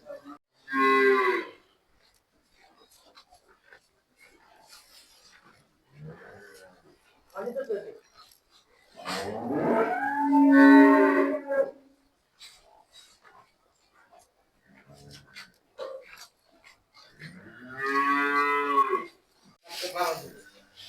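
Cattle on a cow farm give a few separate moos, each loud and close, with quieter gaps between them and a little background movement.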